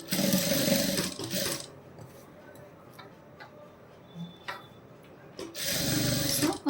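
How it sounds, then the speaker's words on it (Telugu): A sewing machine runs a corner side stitch at the joint of a blouse neck patti: a close, fast, whirring burst at the start, a quiet pause, then another steady burst at the end. "ఈ కార్నర్ నేను ఎక్కడైతే జాయింటింగ్ చేశానో అక్కడనే కార్నర్ సైడ్ స్టిచ్ అనేది వేస్తున్నాను"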